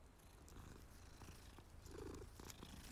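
Low, steady purring from cats in the video game Hogwarts Legacy, a continuous rumbling texture that runs evenly throughout with soft background game ambience.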